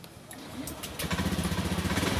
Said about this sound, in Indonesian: Oke, motor hidup.